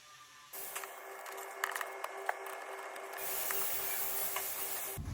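Trim fasteners being worked loose while removing two 8mm bolts from the rear tailgate trim of a Land Rover Discovery Sport: sparse mechanical clicks and ratchet-like ticks over a steady background hiss, close by, with no talking.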